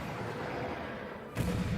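A single heavy explosion from an episode of The Book of Boba Fett, the season finale, breaks in suddenly near the end as a loud, broad boom over a steady low rumble of soundtrack.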